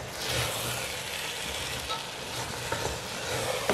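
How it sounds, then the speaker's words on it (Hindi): Mangodi and peas fry in a pan with a continuous soft sizzle while being stirred. The scraping stir strokes are fairly faint and steady throughout. "अब हम इसको मिक्स कर लेते हैं। फ्लेम को थोड़ा हाई करते हैं।"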